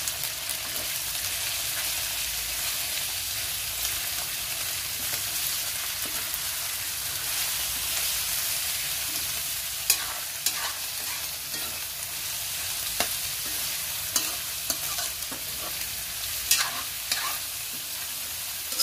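Chicken pieces sizzle and fry in oil in a pan for a homemade chicken pastil, a steady loud crackle with occasional stirring clatter and scrapes.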